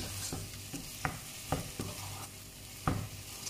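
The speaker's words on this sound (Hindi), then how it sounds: "हम इसमें सारे मसाले डाल देंगे, ठीक है, अच्छे से मिक्स कर लें इसे।" Spices stirred and fried for chana dal with spinach, a soft sizzle under intermittent spoon scrapes and knocks against the pan, close up with no speech.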